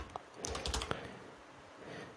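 Quick keystrokes on a computer keyboard as a name is typed: a short burst of light clicks, then quiet.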